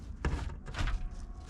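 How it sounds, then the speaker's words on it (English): The stubborn door of an abandoned, dirt- and mud-caked Batmobile is pried open with two quick scraping thuds close by, followed by a faint rattle. "the door was being stubborn, but I managed to pry it open"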